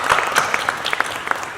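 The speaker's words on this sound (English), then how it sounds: "Give yourselves a round of applause." A crowd at a school district candidate night applauds, a brief, lively burst of many hands clapping that thins out to a few scattered claps.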